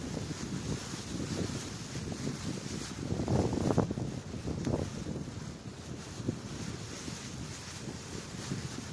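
Steady wind buffeting by a lake, with a brief stronger gust in the middle, no voices.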